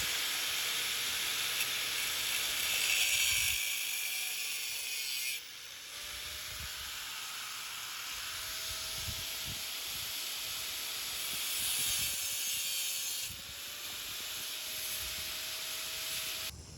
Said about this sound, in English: we're getting a fresh coat of paint on it